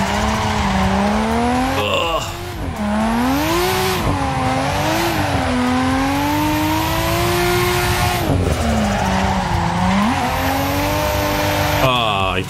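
Tires squealing as a car drifts in Assetto Corsa, a loud continuous screech that wavers up and down in pitch over a revving engine drone, with a brief dip before the squeal resumes.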